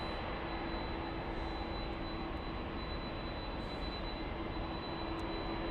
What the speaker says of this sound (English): Delta's 443 to Honolulu, the 767 you're hearing right now.